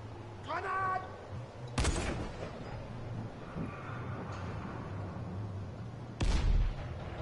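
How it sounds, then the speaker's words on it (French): Grenade blasts in the zombie game Dying Light: two sharp, heavy booms a few seconds apart over a low, steady game hum, with a faint voice-like sound at the start. "Grenade."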